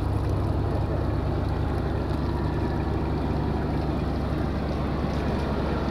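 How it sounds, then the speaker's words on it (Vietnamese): Fishing boat engine running steadily at sea at night, a constant low drone with water wash and wind noise, no one speaking. "giờ tàu đang chạy tới chiếc ghe trong ha"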